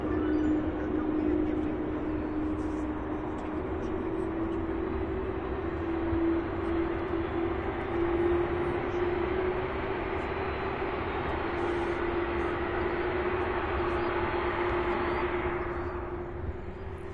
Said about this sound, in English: Next up, the A300 out of Knoxville, Tennessee, followed by another MD-11 out of Charlotte, North Carolina.